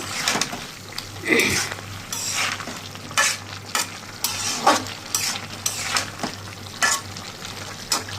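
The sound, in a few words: sautéing and stirring fish curry spices in a pan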